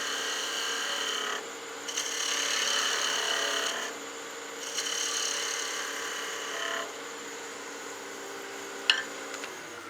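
A wood lathe spins while a tool takes peeling cuts on a gnome Christmas ornament, a steady whirring hum that swells into rougher cutting bursts several times, then ends with a sharp knock.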